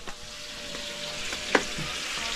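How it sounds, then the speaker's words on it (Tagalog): Water comes to a boil in a pot at a house under construction, giving a steady low bubbling hiss with a few sharper pops and one louder bubble burst, close and fairly quiet, with no talking. "Kumukulo na"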